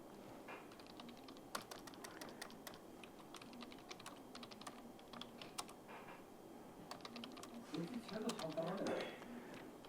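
Fast, quiet keyboard typing, many light clicks in quick runs, while a voice talks over it the whole time.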